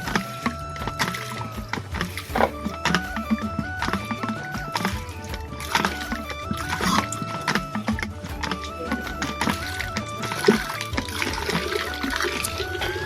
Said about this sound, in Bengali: এবার জলটা বেরোবে, দেখো।